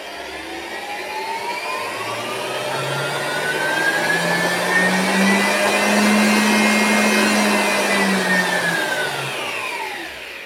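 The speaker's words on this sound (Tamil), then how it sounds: "நண்பா இப்போ பார்த்தீங்கன்னா தெரியும் ப்ளோயரோட சவுண்டு லேசாக கேட்கும்" An electric blower runs at reduced voltage through a regulator, humming and whining steadily as its pitch slowly rises and then falls again, fairly loud and alone without speech.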